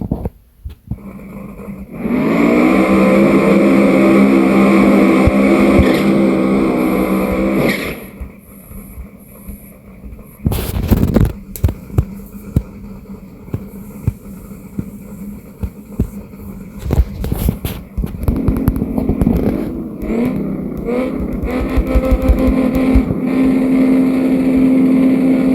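A small-block turbo engine in a gasser build revs loudly with a steady, throbbing drone for several seconds, then drops to a rough idle punctuated by sharp bursts and blips before settling into a sustained hum.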